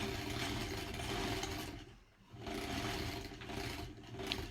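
A sewing machine stitches a quilt slowly and steadily, its motor hum filling most of the clip, broken by a short pause near the middle before the stitching resumes.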